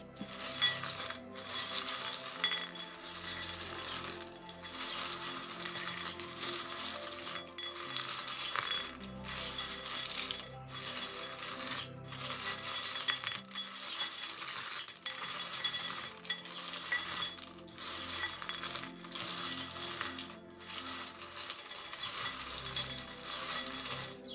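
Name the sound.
small charms cast onto a surface for a reading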